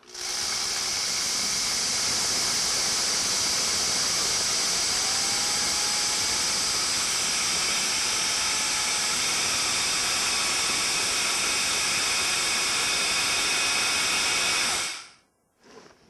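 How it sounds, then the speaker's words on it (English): A high-powered blender grinds oat groats into flour, a loud, dense whirring roar that holds steady for about fifteen seconds before cutting off abruptly and spinning down to quiet. "It only takes a few moments if you have a high-powered blender and can grind them up quickly."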